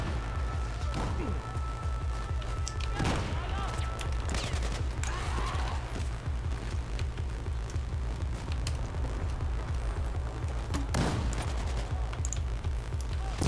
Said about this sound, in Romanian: Care mă, ta mai tragi cu grenade launcher-ul?